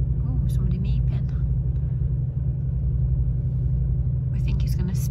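Engine rumble from a motorbike idling and revving at traffic lights on a town street, a steady low drone with car traffic passing, heard close up under conversation.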